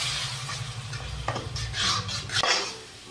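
Watermelon seeds and kasuri methi roasting in a kadai, with a spatula scraping and stirring against the metal and a light sizzle; several louder scrapes stand out near the end, with no talk.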